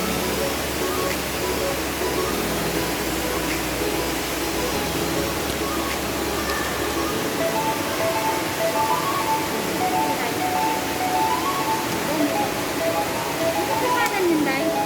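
A waterfall roars as a continuous broadband rush of falling water, steady and fairly loud throughout, with voices talking over it in places.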